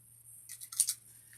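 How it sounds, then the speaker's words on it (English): Scissors slicing open a paper envelope in a short, quick series of crisp snips lasting under a second, close and fairly quiet over a faint low hum. "grab the world-famous Million Mile scissors"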